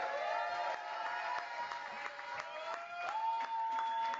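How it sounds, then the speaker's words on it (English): Comedy club crowd at a roast battle cheering and clapping as the next comic is called up, a steady dense wash of applause and whoops with a few sharper individual shouts rising over it. "Much more cheering than there was for Jeremy."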